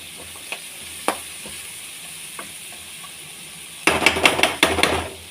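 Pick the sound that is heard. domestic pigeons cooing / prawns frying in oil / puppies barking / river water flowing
prawns frying in oil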